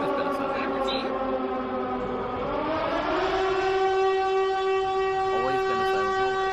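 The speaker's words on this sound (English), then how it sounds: "Always been a Silent Hill siren." A Silent Hill-style air-raid siren wails in Fatal Frame 2, a loud sustained mechanical howl whose pitch drops and settles into a steady rich tone, with a voice talking faintly underneath.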